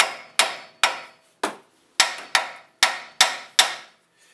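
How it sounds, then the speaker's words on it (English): Nine sharp metallic hammer blows, evenly spaced and close, strike a Mazda 3 steering knuckle ear to free the tie rod end during a front wheel bearing job, each ringing briefly before the next. "take the hammer and hit the ear where it goes through, and it comes right out"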